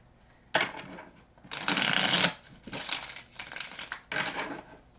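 Tarot cards are shuffled in several loud bursts of crisp riffling and rustling, separated by short pauses.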